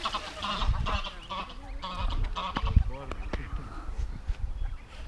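Ducks and geese honk and squabble loudly and close at Chafford Gorges Nature Park, with repeated harsh calls alongside people chatting nearby.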